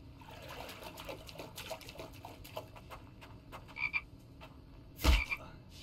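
Frogs croak in a survival video game set in the open countryside, a scattering of short repeated calls over a steady ambient bed, with one louder, sharper burst near the end.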